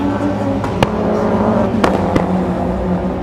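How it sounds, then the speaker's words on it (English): A rotary-engined rallycross car at a race meeting in Nysum, Denmark howls with a steady, buzzy engine note, with a few sharp cracks from the exhaust cutting through. "Listen to that rotary engine howling away."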